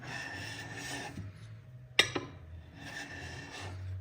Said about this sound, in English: you sort of taking that burr off with the diamond stone.